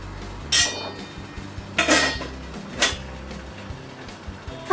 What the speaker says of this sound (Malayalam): ഇനി നമുക്ക് അടച്ചു വയ്ക്കാം.